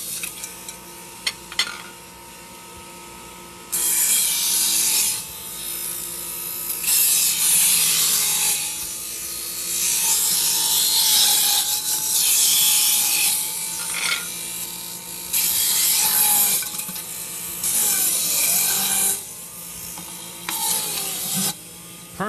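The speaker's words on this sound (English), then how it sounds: "Perfect juice extractor, all stainless steel housing, polycarbonate body, made in America." A Waring PJE401 juice extractor with a stainless steel housing and polycarbonate body juices apples, ginger, carrots and celery; its motor hums faintly, then surges into loud grinding whirs in repeated bursts as produce is fed in.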